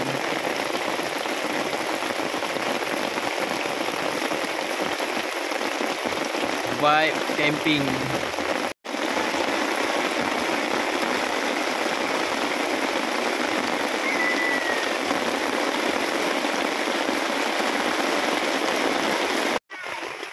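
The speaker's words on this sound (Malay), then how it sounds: "Hujan guys, hujan." Steady rain falls as a dense, even hiss, close around at a campsite in Kuantan, Pahang, Malaysia, with a person speaking briefly partway through.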